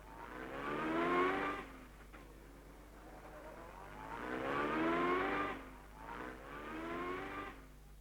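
Rally cars of the 1951 Monte Carlo Rally setting off from Hamburg, engines revving and rising in pitch as they accelerate away one after another in three swelling surges, moderately distant.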